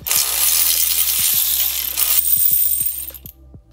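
A hand ratchet works loose the handlebar riser bolts on an Indian Roadmaster or Chieftain motorcycle, giving a close series of sharp metallic clicks at a fairly steady rhythm, loud and alone, ending in a brief quiet.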